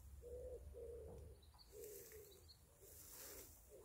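A bird cooing in a backyard apple tree: a series of soft, repeated coos in a steady rhythm, fairly faint and distant, with light background hiss and no talking.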